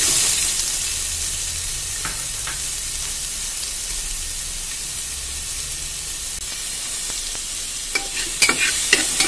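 Sliced onions fry in about a tablespoon of hot coconut oil, giving a steady soft sizzle and hiss with a few light clinks of stirring near the end, no talking.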